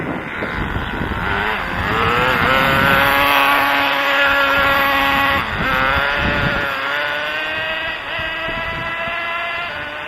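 A Redcat Caldera RC truck drives down a road, its electric motor giving a high, shifting whine that rises and falls in pitch. It is loud and close with a rough rumble, and no voices are heard.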